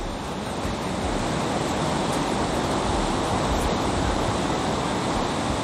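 Flowing river water near Manikaran Gurudwara in Manali, a steady broadband rushing roar with no breaks, close and fairly loud, with no voices over it.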